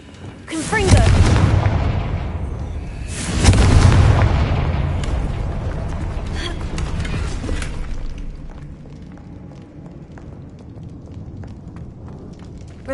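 A Confringo blasting spell detonates twice in Hogwarts Legacy, two heavy booming explosions a few seconds apart, each trailing off into a long rumbling decay and debris crackle.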